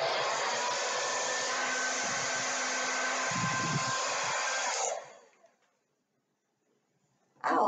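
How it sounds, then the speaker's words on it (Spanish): A hair dryer blows with a steady, loud whooshing hum, then switches off and fades to silence before a brief noise returns at the end. "el segundo era una secadora de pelo."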